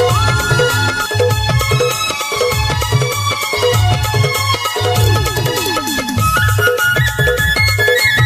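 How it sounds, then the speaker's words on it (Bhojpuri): A phone ringtone effect plays inside a loud Hindi DJ remix track, a repeating electronic ring melody over a thumping, steady bass beat with no talking. "आपकी गर्लफ्रेंड का फोन आया है"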